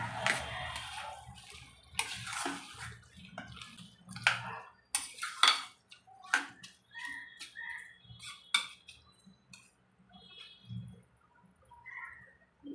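Drained soaked rice being stirred into chicken pulao in a metal pot, with intermittent clinks and scrapes of a spoon against the pot and soft wet shuffling, moderately close and without talk.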